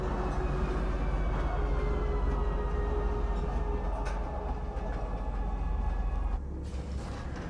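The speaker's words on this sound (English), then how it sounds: "riding the train never gets old to me" A train rides along in the Star Citizen game, a continuous dense rumble with rattling and faint high tones, steady for several seconds before easing slightly near the end.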